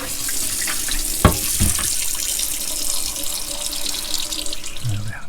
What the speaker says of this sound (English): turn the pump off and open the taps